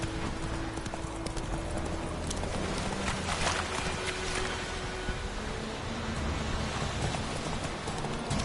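Horse Roach's hooves clip-clop steadily and close up in The Witcher 3, a continuous rhythmic trot over a dense, rainy-sounding outdoor ambience with no voices.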